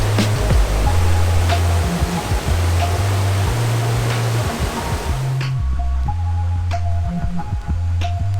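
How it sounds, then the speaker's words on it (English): Steady broadband roar of a waterfall in a Thai national park's jungle, constant and close, with a low rumbling wash underneath and a few faint knocks and clicks over it. "There's an amazing waterfall here."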